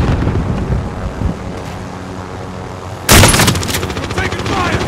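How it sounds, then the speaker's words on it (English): Gunfire in a military video game erupts suddenly as a loud, close burst of cracking shots partway through, following a quieter stretch of rumbling ambience, with faint voices in the mix. "Taking fire!"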